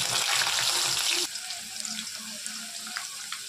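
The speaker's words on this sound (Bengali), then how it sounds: "আলুগুলো ভালো করে ভাজা হচ্ছে" Potatoes fry in hot mustard oil in a salted wok: a loud burst of hissing sizzle, then a softer, steady bubbling with scattered crackles.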